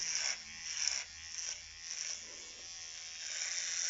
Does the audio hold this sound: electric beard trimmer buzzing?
yes